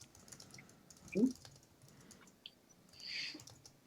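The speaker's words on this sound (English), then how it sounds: "No, I'm typing it up." Soft, quiet keystrokes on a computer keyboard tap irregularly in the background, with a faint voice coming through briefly between them.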